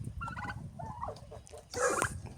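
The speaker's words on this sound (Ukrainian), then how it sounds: "Це ось курочка віандо срібло." A silver-laced Wyandotte hen, hungry and recently given medicine, makes close, soft clucking and chirping calls, with a louder squawk near the end.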